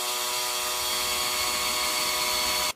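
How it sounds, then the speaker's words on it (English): A power drill whines steadily at high speed drilling a pilot hole into a wall for a few seconds, then cuts off abruptly. "I'm going to go ahead and drill a pilot hole"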